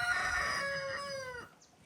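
A rooster crows once on a homestead, a loud, clear, drawn-out cock-a-doodle-doo with a harmonic-rich rising then falling call that fades out after about a second and a half.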